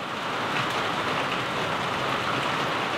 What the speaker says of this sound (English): Some people really like that sound, that that rain on a tin roof.